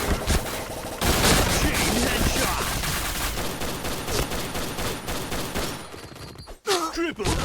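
Rapid gunfire in the online shooter Point Blank with the Snow Ball Blaster, dense sustained bursts of shots filling most of the stretch, loud and close, before a brief dip and a few final shots with a voice near the end.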